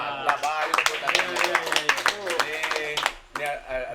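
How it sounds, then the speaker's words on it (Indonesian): An audience claps at a local talk-show gathering, a rapid patter of hands running under loud, overlapping speech. "Wih, mantap baik tepuk tangan."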